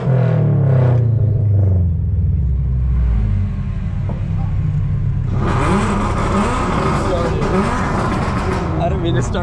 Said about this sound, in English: I'm gonna try and use the launch control right here and just see how it sounds.